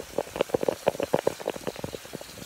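Water from a half-filled watering can splashes onto grass in a rapid, irregular patter of close, wet droplet hits that thins out toward the end.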